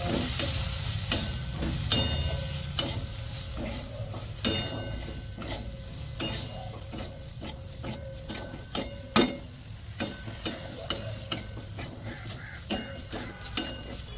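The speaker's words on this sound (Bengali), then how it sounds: "জিরে গুঁড়ো আন্দাজ মতো লবণ এগুলো সব একসাথে ভেজে নেব" Turmeric, cumin powder, salt and spices fry together in a pan for an egg chop, with a continuous soft sizzle broken by repeated sharp clicks and scrapes of a spoon stirring against the metal.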